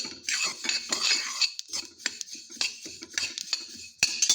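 Sesame seeds dry-roasting in a pan while a metal spoon stirs them, making close, irregular scrapes and clinks against the pan with short pauses between strokes and no speech.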